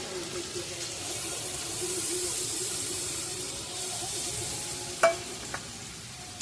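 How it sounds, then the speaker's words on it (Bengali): Soaked ground spices fry with ginger and tomato in a pan, giving a steady soft sizzle and hiss, with a couple of sharp utensil clicks toward the end. "গুঁড়ো মশলাটা ভালোভাবে ভেজে নেব, সাথে ভালোভাবে কষিয়ে নিচ্ছি।"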